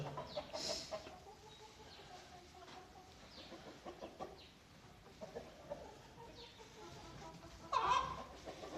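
Chickens cluck softly and intermittently nearby, with a louder squawk near the end against a quiet outdoor background.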